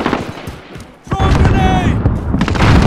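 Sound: grenade explosion in Call of Duty: Modern Warfare video game

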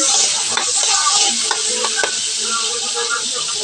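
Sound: sautéing fish innards in a pan

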